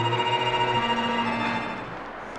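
A sustained orchestral sting marks reaching an objective in The Getaway on PS2: a loud held chord that swells and then slowly fades out, heard alone.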